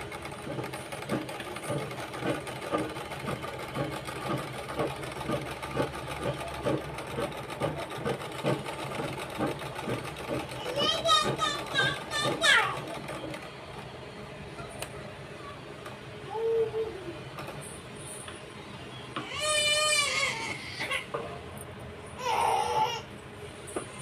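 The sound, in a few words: pico-fall sewing machine stitching a sari edge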